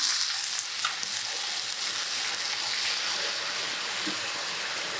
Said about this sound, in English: we're just gonna let that simmer, and it's gonna come together beautifully